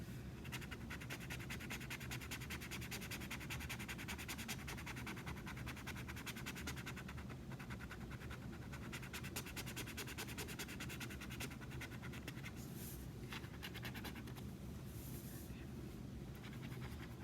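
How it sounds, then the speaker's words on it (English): Vinyl being scratched onto a canvas for a May the 4th art kit, a steady dry rasping scrape that runs nearly unbroken and close up, with a continuous low background hum beneath it. "As you're going through, guys, and scratching the vinyl, applying the vinyl to your canvas, kind of work at it from different angles."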